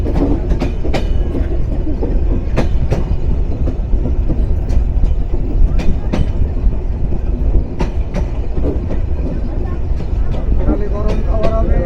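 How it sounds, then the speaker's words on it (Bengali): The Nilsagar Express intercity train runs through Ishwardi Bypass station between Pabna and Natore with a loud, steady roar and rhythmic clickety-clack of wheels over rail joints, a voice talking over the din. "উত্তরের আন্তনগর নীলসাগর এক্সপ্রেস থ্রুপাস করে যাচ্ছে পাবনা এবং নাটোরের মধ্যবর্তী ঈশ্বরদী বাইপাস রেলওয়ে স্টেশন"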